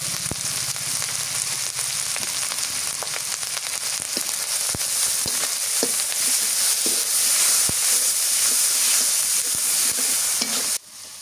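Garlic paste sizzling in hot oil in a pan, a steady bright frying hiss that runs continuously, with occasional stirring taps and scrapes, close and loud, no talking.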